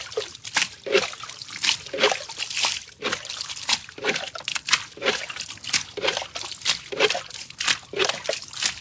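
Water poured by hand on a river fishing outing, splashing and trickling in repeated short bursts with sloshing between them, close and fairly quiet, no voices.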